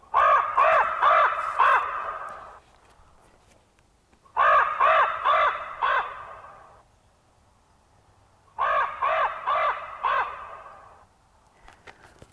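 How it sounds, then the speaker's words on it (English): Three bursts of harsh, raspy winter calls from two blackbird species, each a rapid series of croaking notes lasting about two seconds, separated by short pauses, fairly close and loud. "those two sounds were from the two blackbirds that we see around here"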